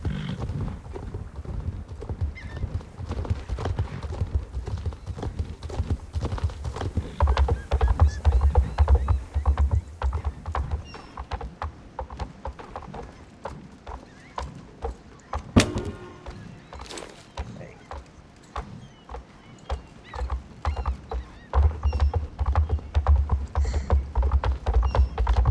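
Hooves of a horse in the video game Star Stable Online clip-clop in a steady repeated rhythm, moderately loud, with a brief sharp knock midway and a quieter stretch before the trotting resumes.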